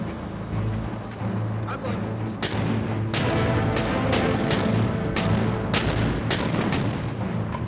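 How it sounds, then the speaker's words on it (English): World War II artillery barrage on the Oder front: a dense, continuous rumble of cannon fire with repeated sharp booms, loud and unbroken throughout. "On the 16th of April, the biggest artillery barrage of the war commenced."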